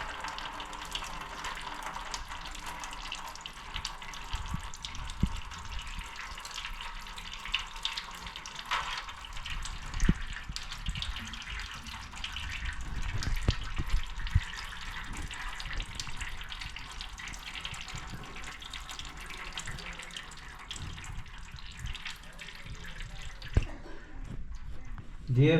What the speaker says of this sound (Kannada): ಫುಲ್ಲು ಡ್ರೈನ್ ಮಾಡಿ ಹೊಸದು ಹಾಕ್ತಾಯಿದ್ದೀನಿ.